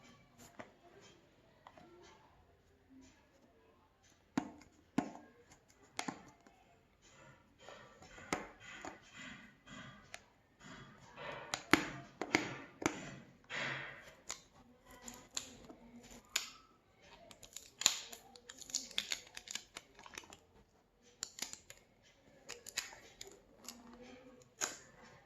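Packaging for a Sony WI-XB400 Extra Bass wireless headset is opened up close, with irregular crinkling, tearing and plastic clicks in scattered bursts.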